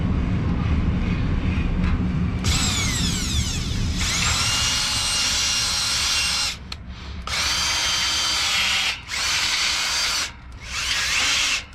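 A Drill Doctor 350X sharpener grinds a drill bit with a loud, steady high-pitched whine. It cuts out briefly three times, then resumes, with no talk.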